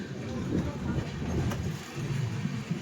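A train pulling out of Rampurhat Junction, a low rumbling roll with faint rhythmic clatter heard from inside the carriage, with people talking nearby over the steady noise.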